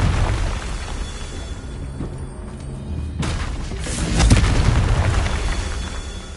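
Fiery spell blasts from Confringo being cast in Hogwarts Legacy, a few booming bursts with rumbling aftermath, the loudest swelling near the end, over a steady game ambience.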